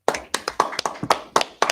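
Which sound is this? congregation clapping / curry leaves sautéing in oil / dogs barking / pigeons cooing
congregation clapping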